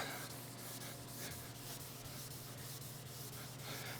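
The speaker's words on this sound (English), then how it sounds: "And this is 1000 grit. I mean, this is barely feels like sandpaper." Steady back-and-forth scrubbing of 1000-grit sandpaper on a sanding block across the painted body of a 1967 Firebird, close and continuous with rhythmic strokes and no talking.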